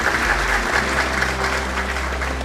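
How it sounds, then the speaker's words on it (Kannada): An audience claps at a televised Karnataka political event as a guest comes onto the stage, a steady crowd applause held through the whole stretch with no voice over it. "ನಿಮ್ಮೆಲ್ಲರ ಪ್ರೀತಿಯ ಚಪ್ಪಾಳೆಯೊಂದಿಗೆ ನಮ್ಮ ಕರ್ನಾಟಕ ನಂಬರ್ 1 ಕಾರ್ಯಕ್ರಮಕ್ಕೆ ಪ್ರೀತಿಯ ಸ್ವಾಗತ BY ವಿಜಯೇಂದ್ರ ಅವರಿಗೆ"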